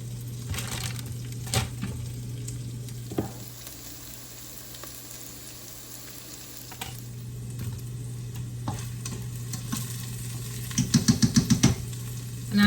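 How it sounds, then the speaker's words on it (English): A steady sizzle of onions frying in a pan, with occasional stirring scrapes and a quick run of clicks near the end. "those onions are cooking really well"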